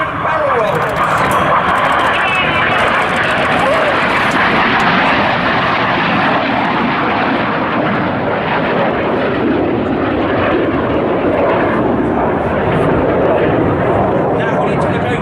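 Red Arrows jets perform barrel rolls at the Duxford airshow, a loud, continuous roaring rush of engine noise that fills the whole stretch, with a commentator talking over it.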